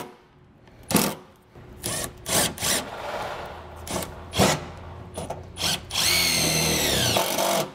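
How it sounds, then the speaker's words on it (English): Short whirring bursts from a power drill driving self-tapping screws into the metal frame of a 2022 Forest River travel trailer, close and loud, several starts and stops ending in a longer rising whine. "we can take two more self-tapping screws and tap it into our frame"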